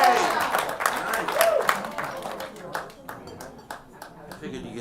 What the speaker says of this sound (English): I figured you'd get a bigger applause than that